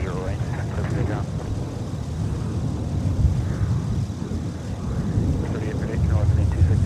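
A jet airliner rumbles through a takeoff roll on runway 30 right at Minneapolis airport on a winter day with deicing underway, a broad, steady low roar that swells slightly toward the end, with faint voices under the noise.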